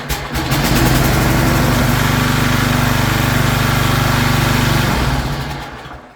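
A Briggs & Stratton lawn mower engine with a priming problem catches after priming at half throttle and runs, a loud, steady, close mechanical drone that holds evenly for several seconds before easing off at the end.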